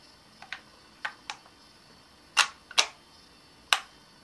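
Small plastic and metal parts of a KWA Mac11 airsoft gun clicking and tapping into place during reassembly, a string of about eight sharp, close, dry clicks spaced irregularly over a quiet background.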